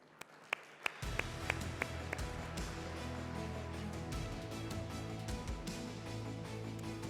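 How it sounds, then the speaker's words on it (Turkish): Audience applause at a retail technology conference as a banking director is welcomed to the stage; a few isolated claps first, then sustained clapping joined by a low musical bed. "Ben alkışlarla sahneye rica ediyorum."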